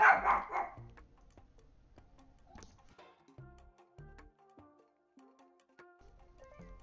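A dog barks loudly at first, then softer yips and barks come in a scattered rhythm indoors during a drawing session.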